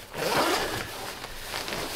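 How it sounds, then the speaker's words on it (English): A zipper on a Rab Latok Mountain Gore-Tex Pro hard-shell jacket is pulled up in one steady, close, continuous rasping stroke. "You can zip it right up."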